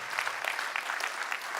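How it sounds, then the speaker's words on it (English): Steady applause from an audience at an NPA 60th anniversary gathering, dense and even with a continuous crackle of many hands, moderately distant and sustained throughout. "can we have a roaring clap of your hands?"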